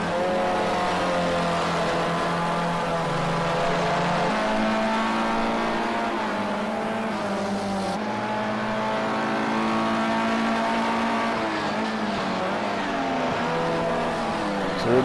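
Formula C single-seater race cars in SARCO Round 5 roar past one after another, a steady loud engine drone with shifting pitch as each car goes by, continuous and close.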